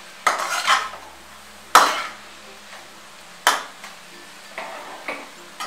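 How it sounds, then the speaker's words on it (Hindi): A spoon stirring chili sauce into vegetable chowmein in a pan, heard as a few sharp metallic clanks and scrapes spaced about a second apart over a quiet background, with no talking. "अब इसमें मैं 1 बड़ा चम्मच चिली सॉस डालूंगी, इसे भी अच्छी तरह से मिला लूंगी"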